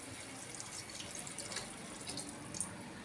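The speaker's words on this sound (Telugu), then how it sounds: "ఇప్పుడు నేను ఇందులో వాటర్ యాడ్ చేస్తున్నాను." Water poured into tamarind juice for rasam, a continuous splashing, trickling stream heard close and steady throughout with no voices.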